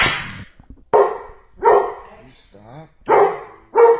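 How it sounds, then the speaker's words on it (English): A dog barks in short, loud bursts close by, four or five sharp barks spread unevenly over a few seconds, with a person briefly speaking between them. "Why is the dog barking?"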